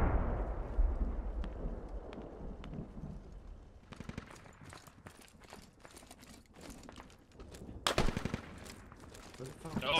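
Bursts of AK rifle fire in the military shooter Squad, sharp repeated cracks crowding the second half with a loud volley near the end, over low rumbling battlefield ambience.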